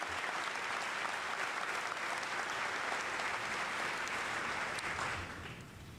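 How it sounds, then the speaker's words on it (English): An audience at an infantry graduation ceremony gives a round of applause for the band, sustained clapping that stays loud and steady before tapering off near the end. "let's give a round of applause to the Maneuver Center of Excellence Band"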